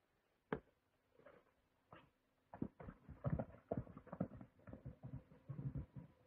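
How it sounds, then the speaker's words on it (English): A horse approaches across desert ground, its hooves sounding as a series of irregular clip-clop beats that begin sparse and faint, then grow denser and louder, with no talk over them. "Someone who rides El Maghrib's horse is approaching."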